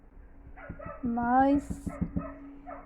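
A neighbour's dog barks repeatedly in the background while someone talks over it, with one longer whining, howl-like bark in the middle of the sequence.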